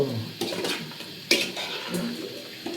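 A spoon scrapes and clinks against a pan as green chicken gravy is stirred, with irregular metallic taps and soft background murmur in a home kitchen.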